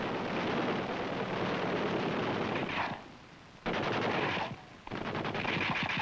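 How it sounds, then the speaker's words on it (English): Two fixed .30 caliber machine guns mounted forward on the skids of a 1960s UH-1A helicopter fire loud, sustained rapid bursts, broken by two short pauses, with no talking. "The UH-1A's two fixed-mount 30 caliber machine guns are mounted forward on the skids, one on each side."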